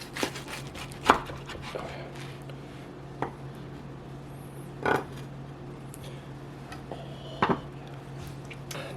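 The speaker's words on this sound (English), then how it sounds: "And there's our patty melt. Now let's give it a cut." A knife slices through a hot patty melt sandwich, giving a few sharp, separate chops and taps on a cutting board against a quiet background hum, with no speech.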